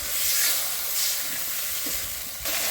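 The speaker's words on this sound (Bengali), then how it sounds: "এবার হালকা করে জল দিলাম" Water is splashed into a hot pan of rohu fish curry, giving a bright sizzling hiss and bursts of steam that rise and fall over a few seconds, fairly quiet overall.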